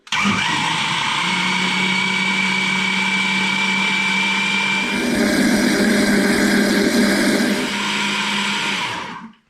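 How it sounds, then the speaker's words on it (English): A blender mixing Yorkshire pudding batter whirs loudly and continuously, its motor pitch shifting midway as the contents churn, then winding down at the end. "putting it in the blender has whisked it all together"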